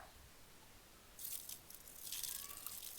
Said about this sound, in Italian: si sciacqua tutto e siamo pronti per fare un altro caffè